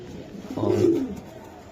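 A single soft coo from a Hungarian Budapest pigeon, one brief rounded call rising and fading over about half a second, close by against a quiet background.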